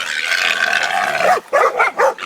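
Hunting dogs barking and yipping during a boar hunt on Oahu, Hawaii, a loud, dense, continuous din followed by a few close, sharp barks in a rapid run.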